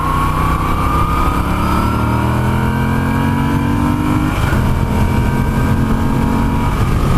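Moto Guzzi V7 III Special motorcycle engine under way, a loud, steady drone with a rising pitch as it accelerates, mixed with heavy wind rush.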